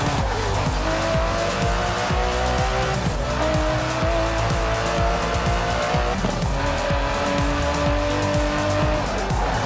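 An Aston Martin DB11 in Forza Horizon 4, its engine droning steadily while the tires squeal and skid through repeated slides, loud and continuous with shifting engine pitch and no talk.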